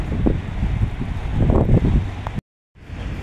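Strong wind rumbles across the microphone at a shoreline fishing spot, loud and steady, then cuts out briefly before resuming more softly.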